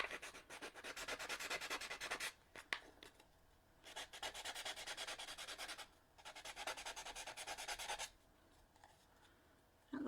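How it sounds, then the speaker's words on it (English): A power sander smooths the rough edges of a decorated craft box in bursts of steady rubbing grit noise, running about two seconds at a time with short pauses between passes, close and fairly quiet. "Just go around with your sander and smooth that off."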